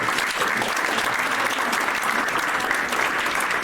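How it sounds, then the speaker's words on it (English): Loud, dense applause from a large crowd, sustained and even throughout with no voices standing out. "let's give the Lord another round of applause"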